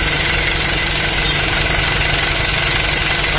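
A car engine runs steadily at close range with its radiator fan stopped while the car overheats, giving a loud, dense rumble with rhythmic mechanical vibration and no voices.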